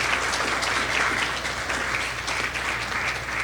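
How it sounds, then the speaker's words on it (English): A loud, dense round of applause fills a debate-finals hall, the clapping steady and unbroken from start to finish. "Please give those ladies a round of applause."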